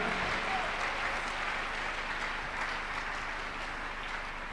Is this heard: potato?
no